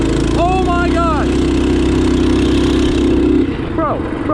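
A Trailmaster Hurricane 200 Pro go-kart fitted with a Tillotson 212 engine runs nearby with a loud steady buzzing drone, easing off near the end, while excited voices shout over it.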